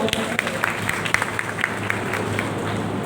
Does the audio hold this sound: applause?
yes